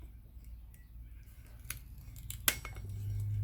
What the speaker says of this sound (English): I found some large pruners, and you can actually slice the coils this way